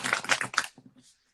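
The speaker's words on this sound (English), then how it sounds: "I'm going to shuffle twice and pull one card." A deck of cards being shuffled by hand, a short close riffle of papery flutters that fades into a few soft taps after about a second.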